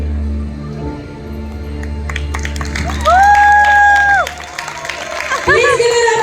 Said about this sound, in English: Come on, show them all your love with a thunderous round of applause.